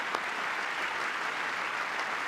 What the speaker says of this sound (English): Everyone clap for me.